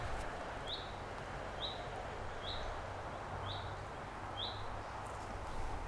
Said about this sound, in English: a bird won't shut up